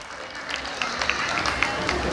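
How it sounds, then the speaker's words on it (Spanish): Wedding guests applaud the couple at a reception: a steady wash of clapping with a few sharper claps standing out, fairly even in level, with talk and crowd murmur underneath. "Eso, fuerte los aplausos"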